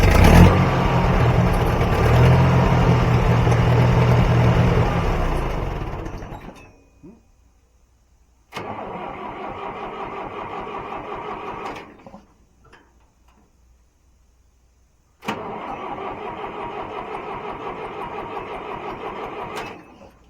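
An International Harvester 2504 tractor engine with a repaired Zenith 267 carburetor runs loud and rough, then cuts out, restarts and runs in two more bursts separated by near silence.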